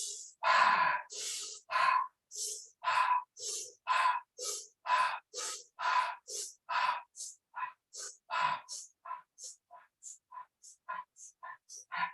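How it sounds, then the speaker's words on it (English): Rapid, forceful breathing during an energizing breath exercise: a long run of about twenty-five sharp, evenly paced breath pulses that quicken and soften toward the end, close and loud, with no other sound. "breathing faster and faster"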